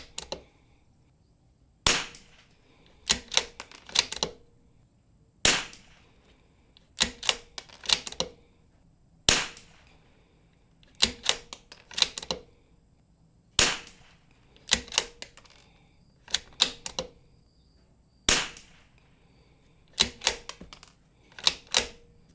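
Rimfire rifle shots from a Curtis rimfire conversion crack sharply in irregular clusters of two to four rapid shots, separated by quiet pauses, over about twenty seconds of outdoor shooting.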